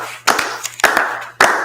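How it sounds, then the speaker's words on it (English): Sharp hand claps during kirtan, three distinct loud claps spaced irregularly with a few softer taps between them, close and alone. "But clapping is also an instrument."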